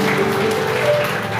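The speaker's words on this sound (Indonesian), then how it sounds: "Coba sekali lagi tepuk tangan." A church congregation claps together on cue during a Good Friday service, a dense steady patter of hands filling the room for a brief moment, with a faint tonal hum underneath.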